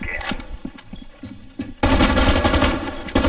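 Gunfire in the video game Rainbow Six Siege: scattered distant shots give way to a loud, sustained burst of rapid automatic fire.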